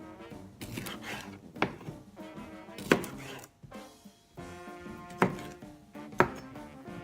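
A knife slices smoked sausage into inch-thick pieces on a cutting board, with four or five sharp, quiet chops spaced irregularly over faint background sound.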